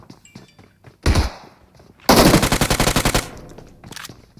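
Gunfire in the mobile game PUBG Mobile: a short, heavy burst, then a pause, then a rapid automatic volley of about a dozen evenly spaced shots, loud and close.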